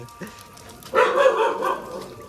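A dog barks several times in quick succession, fairly close and loud, with a burst of noisy activity that continues after the barking.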